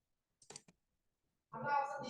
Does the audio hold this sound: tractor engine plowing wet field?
no